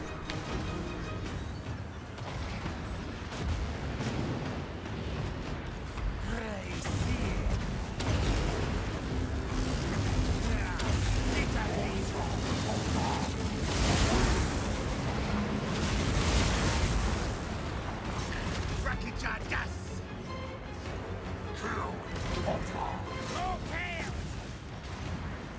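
Artillery units coming under fire in a Total War: Warhammer II Mortal Empires Skaven battle, a dense, continuous roar of explosions, gunfire and rumbling battle noise, steady and loud throughout, with a voice speaking over it at times.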